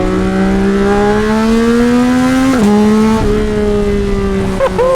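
A loud Yamaha R9 sportbike with a full-system exhaust drones steadily with a rising pitch, then drops sharply and revs back up near the end, close and continuous.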